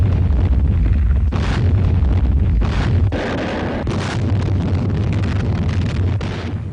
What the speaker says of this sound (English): the Navy's warships sought to soften up the beaches by the final pre-invasion bombardment